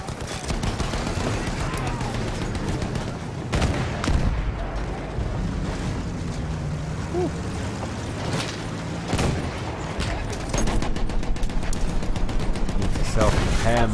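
Battlefield 1 campaign battle with tanks, a mounted machine gun firing in short bursts amid booming explosions and steady engine rumble, loud and continuous under someone talking.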